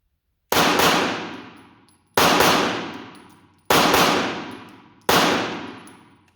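Four pistol shots are fired at a target on a shooting range, each a sharp loud crack with a ringing decay, evenly spaced about a second and a half apart, close and with no talk.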